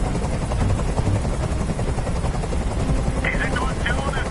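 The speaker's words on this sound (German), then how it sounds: "Dieser Helikopter soll verschwinden." A video game helicopter drones with a continuous rotor roar that fills the whole stretch, with a voice speaking over it.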